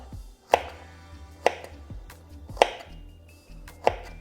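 A knife chops carrots into angled pieces on a cutting board, four sharp, distinct knocks spaced about a second apart, close and clear with quiet gaps between.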